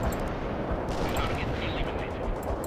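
Explosions and gunfire from a bombing run in the real-time strategy game World in Conflict, a dense, loud, continuous roar of blasts with no pauses.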